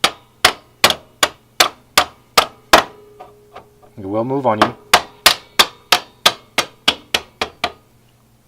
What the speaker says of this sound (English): And you start hammering through.